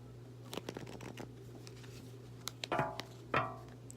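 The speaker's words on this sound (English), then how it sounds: "That was a really good shuffle." Tarot cards riffled and shuffled close by, with a few light taps and then two quick crisp bursts of flicking cards near the end.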